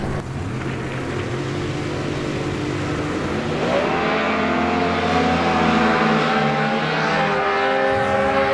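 Drag racing cars at a competition eliminator event launch off the starting line, a loud sustained engine roar with rising revving pitch that swells after a few seconds and holds strong, one car suffering driveline issues.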